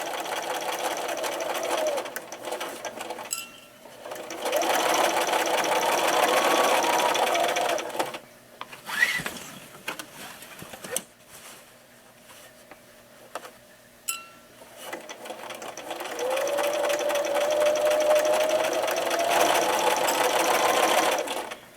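Sewing machine stitching bias tape binding around an ironing board cover in long steady runs, loud and close. Quieter pauses in the middle are filled with fabric handling and clicks before stitching resumes.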